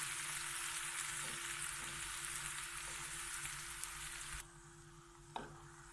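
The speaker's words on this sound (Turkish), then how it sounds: "Kızgın zeytinyağımıza soğanlarımızı ekliyoruz. Soğanlarımız pembeleşinceye kadar kavuracağız." Onions fry in hot olive oil with a loud, dense sizzle that drops off sharply partway through, leaving a quieter hiss and a single clack of utensil.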